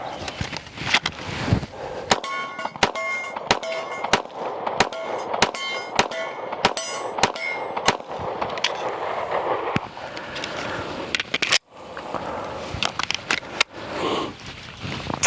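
Rapid strings of sharp gunshots from an H&K CC9 pistol, fired fast in bursts of evenly spaced cracks with brief pauses between strings, loud and close on an outdoor range.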